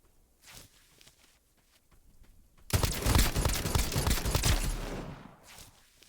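Rapid, dense gunfire from a Mosin Nagant rifle in a video game erupts loudly after a quiet stretch of faint steps and rattles, forming a sustained volley of several seconds before dropping away.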